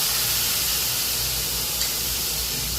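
Salted, turmeric-coated tomato pieces fry in hot oil with a loud, steady sizzling hiss that stays close and even throughout.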